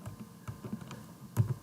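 Quiet typing on a computer keyboard, a few soft, irregular key taps close by with faint room hum and no speech.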